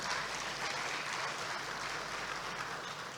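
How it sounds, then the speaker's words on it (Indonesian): Faint, distant applause from an audience at an elementary school graduation ceremony, a soft steady patter of clapping heard from far off throughout. "Tepuk tangan buat kita semua."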